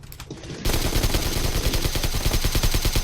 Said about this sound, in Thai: เอายิงเลยยิงเลย